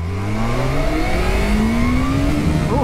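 A 2022 Kawasaki H2 SX motorcycle accelerates hard in first gear, its loud, close engine note climbing steadily in pitch without a break.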